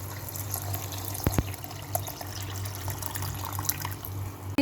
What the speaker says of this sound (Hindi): शुगर डालने के बाद हमने इसके अंदर 4 गिलास पानी डालने हैं।